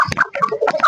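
Close clucking from a village hen in a desi backyard flock, a few quick irregular clucks over less than a second, loud and alone.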